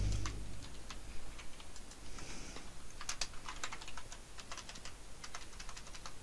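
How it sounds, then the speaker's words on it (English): Rapid, light clicking of typing on a computer keyboard, with irregular keystrokes ticking away close by at low volume under a faint background hiss. "What are you typing?"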